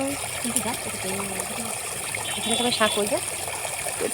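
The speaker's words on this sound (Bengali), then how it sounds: "এখানে জলের আওয়াজ কেন এই দেখো জল সমানে নামছে এখানে" Floodwater runs steadily downhill with a continuous trickling gush, while a person talks close by over the flow.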